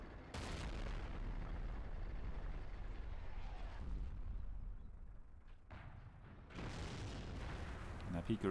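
A tank cannon shot in World of Tanks penetrates an IS-8 heavy tank, heard as a loud booming blast with a rumbling tail, then a second sharp impact burst near the end, over background battle noise.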